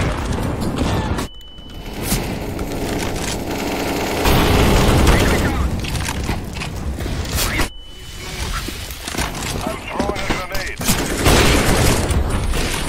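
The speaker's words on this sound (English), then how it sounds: "Grenade, throwing fire." Grenade blast and bursts of rifle fire in the online shooter CS:GO during a competitive match, a dense continuous barrage with sharp booms cutting through, loud and close, with a player's voice talking over it.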